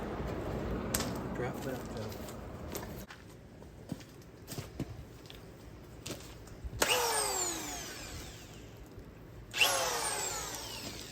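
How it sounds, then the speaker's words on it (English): A cordless drill fitted with a socket spins over an old Clinton small engine, short whirring bursts between quieter gaps and two louder, longer cranking runs near the end. "putting the socket on it where I could crank this engine over"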